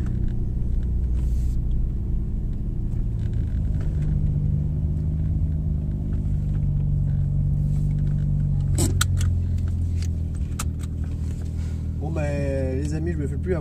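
Heard from inside a BMW M3 E36, a low, steady engine rumble drones throughout, with a rising rev near the end and people talking over it.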